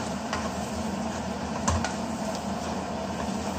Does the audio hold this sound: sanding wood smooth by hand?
no